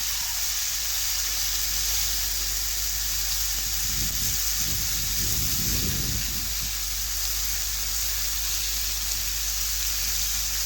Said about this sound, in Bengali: এই জন্য আঁচটা কমিয়েই পটলটা ভেজে নিচ্ছি